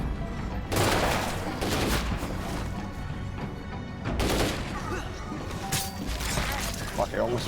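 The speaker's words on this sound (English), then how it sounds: "I almost ran out of ammo shooting them" Zombies are shot in the game State of Decay 2, with repeated gunshot bursts and crashes coming in clusters over busy game noise, fairly loud.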